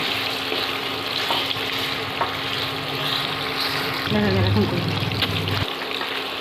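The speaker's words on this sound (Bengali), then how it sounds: "এবার আমরা পনিরগুলো এর মধ্যে দিয়ে দিচ্ছি। পনিরগুলো একটু লাল লাল হয়ে গেলেই তুলে নেব।" Paneer cubes fry in hot oil in a pan while cooking paneer butter masala. A steady, close sizzle runs throughout and grows louder with bubbling and stirring for a stretch near the end before settling back.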